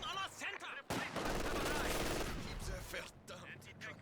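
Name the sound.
sniper rifle shots in Company of Heroes video game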